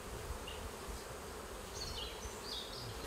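Faint, steady buzzing of bees in a Mexican montane cloud forest over a soft background hum, with a few brief higher passes as insects fly near.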